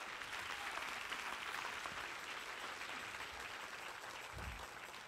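A church congregation applauds in a continuous wash of clapping heard from a distance, fairly quiet and even throughout, with a brief low thump near the end.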